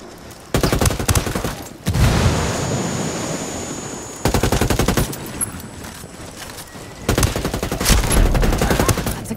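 Video game gunfire in Ghost Recon Ghost War: loud, dense bursts of automatic fire come in three long volleys separated by brief lulls of lower rumbling battle noise.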